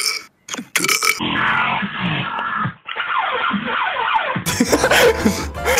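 A burp comes through a Standoff 2 game voice chat, drawn out and croaking over a compressed, noisy line. It is followed by more rough, grunting vocal noise and bursts of chat static, loud and close to the mic.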